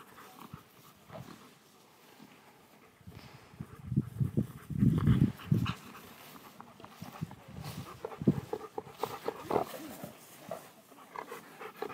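A Doberman at a dog trade in China, with bursts of panting, snuffling and movement close by, the busiest stretch in the middle, over a low background of activity.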